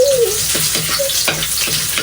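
Garlic and onion sizzle loudly in a hot oiled pan, a steady close frying hiss with occasional stirring scrapes and no voices.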